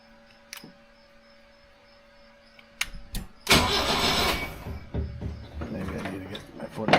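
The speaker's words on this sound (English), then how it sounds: "But it will, the car will start." A 1976 BMW 2002 with a newly fitted push-button start and freshly tuned carburettor cranks briefly, then catches and roars to life up close, settling into a loud, uneven running idle after a few faint clicks.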